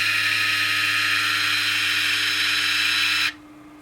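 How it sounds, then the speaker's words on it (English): A 5-wire motorized ball valve's small electric motor runs closing the valve, a steady close whine with a constant low hum that stops abruptly near the end. "the valve will close."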